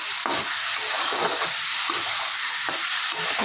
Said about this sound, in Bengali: ভালো করে এবার কষিয়ে নেব